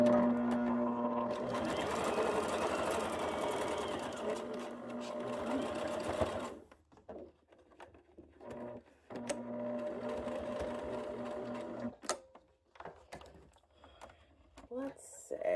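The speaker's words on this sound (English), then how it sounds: "we are going to sew our bias tape on" A sewing machine runs steadily and loudly while stitching bias tape onto a homemade dry erase pouch, then stops and starts in shorter bursts, with a voice talking over parts of it.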